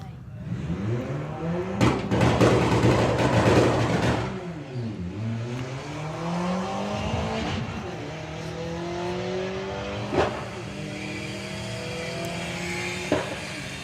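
A Skoda drag car launches down the strip at Santa Pod during a VW drag racing sportsman qualifier, its engine roaring and then shifting through gears as it pulls away, loud and sustained, while a commentator talks over it.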